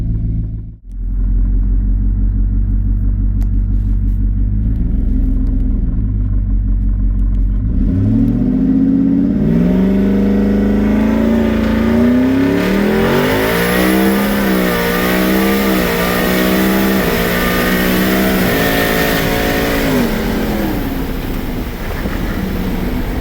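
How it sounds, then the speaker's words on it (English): A built twin-turbo Ford F-150 truck engine idles with a deep rumble, then revs hard during a foot-brake launch, its pitch climbing and wavering in loud, sustained sweeps, with no talk over it. "So we're going to do just a simple foot brake just to see what it does"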